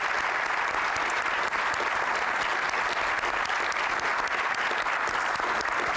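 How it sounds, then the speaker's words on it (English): An audience applauds the speakers and the director at a Food Evolution screening event, a dense, steady wash of clapping from a large crowd that holds at full strength throughout, with no talking over it. "I'd first like a round of applause for both our speakers and Scott, the director"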